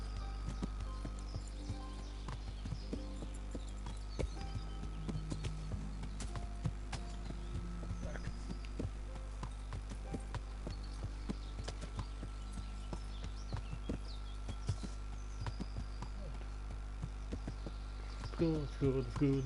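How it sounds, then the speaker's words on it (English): Steady clip-clop of a horse's hooves under a rider in the medieval game Kingdom Come: Deliverance, a soft, even gait running the whole time beneath a constant low hum and game sounds, with no clear talk over it. "I'm actually still on the horse."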